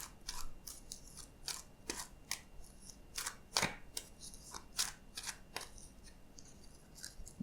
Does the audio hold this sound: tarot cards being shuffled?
yes